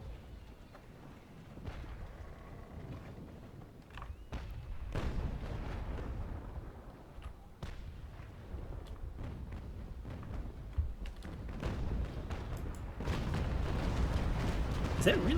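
Ship cannons firing broadsides in Naval Action, a run of distant booming shots and sharp cracks across a mid-sized sea battle, with someone talking over the gunfire.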